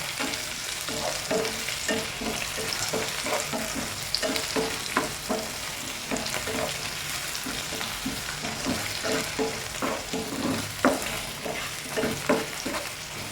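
Steady frying sizzle in a pan, broken by a regular series of scraping stirs from a spatula, close and fairly loud throughout.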